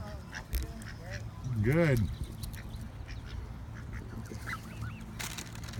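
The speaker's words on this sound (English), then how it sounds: "Yeah, see, them geese, they like to rule here." Geese in Sacajawea Park, Livingston, Montana, give a loud nasal honk up close, with fainter honks and calls around it and someone speaking briefly.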